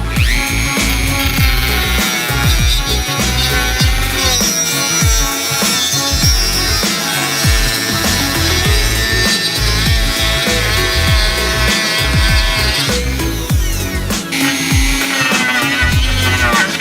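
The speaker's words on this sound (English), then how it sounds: "I have this bit that cuts wood very well. Yeah, I have this thing, number 543 for the Dremel brand." A Dremel rotary tool fitted with a number 543 cutting bit saws through wood boards for a DIY car ramp, a loud steady whine with shifting pitch and bursts of chatter as the bit bites, continuous and close with no talking.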